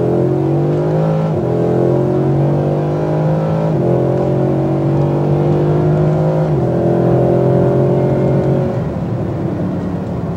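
A car's engine drones loudly from inside the cabin, its pitch climbing steadily through several gear changes marked by abrupt drops, then rising again under strong acceleration.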